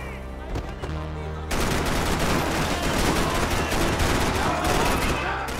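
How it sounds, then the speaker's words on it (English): Gunfire in the video game Max Payne 3 bursts in after a quiet start, dense and loud, with rapid overlapping shots over a steady game soundscape. "But he's woken by gunfire."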